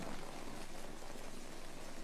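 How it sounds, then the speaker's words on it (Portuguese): Heavy rain pours down in a steady, dense hiss that stays continuous and loud throughout, with no voices over it. "No novo megacontinente perto do Havaí, chove a cântaros durante um mês."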